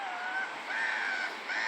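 Seagulls calling nearby, a run of bright, squealing cries that rise and fall in overlapping bursts, fairly loud and close.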